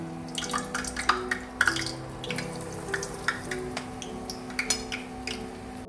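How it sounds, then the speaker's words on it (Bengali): Chicken pieces fry in hot oil over a low flame, giving a constant sizzle broken by sharp pops and crackles, with a faint steady hum beneath. "এবার একে একে আমি সবগুলো একটু রেড রেড করে ভেজে নেব, বাট অল্প ফ্লেমে"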